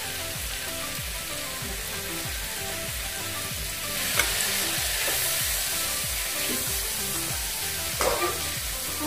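Pork belly stir-fried with pekaa pods (Indian trumpet tree) sizzles steadily in a hot pan, with a rhythmic scraping stir repeating every second or so and no voices.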